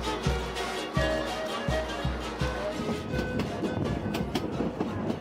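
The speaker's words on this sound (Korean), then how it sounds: "기차가 안데스 고원지대를 지나는 동안" A train crossing the Andean highlands of Peru rolls along the rails with rhythmic clickety-clack thumps at first, then a steady rumbling rattle of cars moving past at moderate volume.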